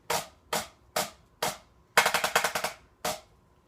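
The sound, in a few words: rim shots on a Xymox Reserve Corps snare practice pad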